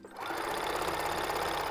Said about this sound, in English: I'm going to sew it down.